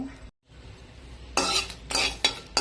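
Four red chillies and four Guntur chillies toss and scrape in a hot pan, with a metal spoon stirring in short bursts of rattling and sizzling separated by brief quiet gaps.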